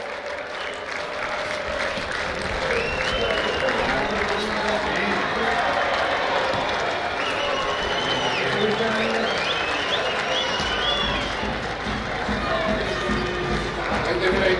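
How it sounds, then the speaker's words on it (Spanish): A stadium crowd applauds champions celebrating on the pitch after an opening league tournament, a dense, sustained roar of clapping and cheering that holds steady throughout with no break. "Los felicitamos con un fuerte aplauso"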